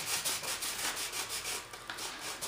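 Sandpaper glued to a stick rubs back and forth over balsa wood on a model F-18 turbine jet build, a steady close, dry scratchy hiss with quick repeated strokes and no talk.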